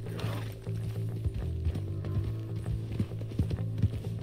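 Hooves of a horse galloping in the video game Red Dead Redemption 2 clop in a quick rhythmic pattern over a low engine-like hum of game ambience, fairly faint and steady throughout.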